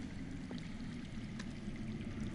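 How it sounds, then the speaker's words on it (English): Underground running water in the Game of Thrones Telltale video game, a steady low wash of flowing water heard from a distance, continuous and even with faint trickles and no voices. "That's water. I hear water. From underground."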